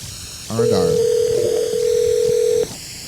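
A telephone call being placed to a knife-sharpening business in Edmonton: a brief run of close handset tones, then a long steady ringback or dial tone held for about two seconds before cutting off, with a faint voice at the start.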